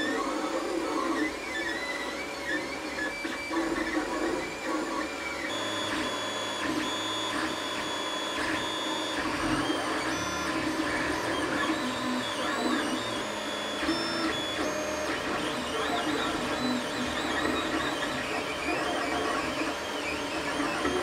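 A Geeetech A20 3D printer whirs and hums continuously, with stepper-motor driver tones shifting pitch and a steady fan drone underneath.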